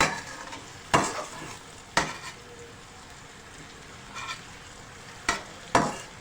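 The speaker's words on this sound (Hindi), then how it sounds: "तीन से 4 मिनट के लिए हम प्याज को फ्राई करेंगे।" Onion frying over a low flame in a pan for chana chaat, with a steady soft sizzle under several sharp scraping stirs of a spoon against the pan.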